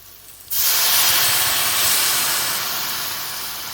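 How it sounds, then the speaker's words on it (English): White wine hits a hot pan to deglaze it, bursting into a loud, sudden steam hiss that holds steady and slowly fades over a few seconds, with no talking. "I'm going to put in just a little bit of white wine to help deglaze the pan a bit."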